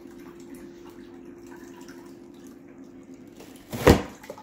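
Water poured from a cup onto a paper towel during a strength test makes a brief, sharp splash near the end, after several seconds of a low, steady hum.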